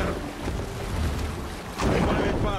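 Wind rushes over a sailing ship in a video game, a steady broadband roar like wind and surf that swells louder near the end, with no clear talk over it.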